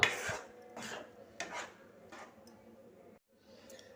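A sweet mixture is stirred in a pan over a medium flame, the spoon scraping in four or five separate strokes. The strokes sound close but fairly quiet, with short pauses between them and no talking.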